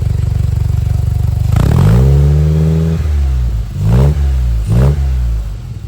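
A 1962 Triumph TR4 engine with a freshly repaired exhaust idles close by, then revs up in one long rise and fall followed by two quicker blips, loud and alone.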